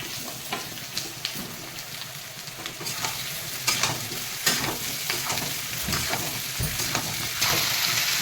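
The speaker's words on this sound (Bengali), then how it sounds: "এই গুঁড়ি কচু আর যাকে বলে গাঁদি কচু একটুখানি ভেজে নেবো" Taro pieces fry and sizzle in a pan, with steady crackling and occasional stirring scrapes and clatters throughout, close and fairly loud.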